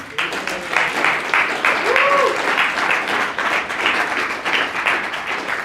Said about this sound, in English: Well, round of applause for Matt.